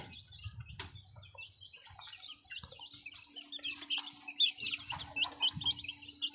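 Chickens, including a white hen, cluck and chirp in a series of soft, scattered calls, with occasional louder bursts and a faint low hum underneath.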